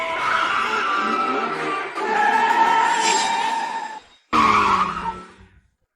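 Two sports cars arriving with loud, sustained tire squeals and skids, first a long screech, a brief pause, then a second sharp skid that fades out.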